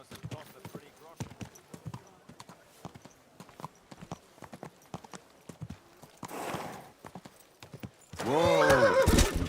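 Hooves clip-clop at a steady walking rhythm in the medieval open-world game Kingdom Come Deliverance 2, with a brief snort partway through and a loud, drawn-out neigh near the end.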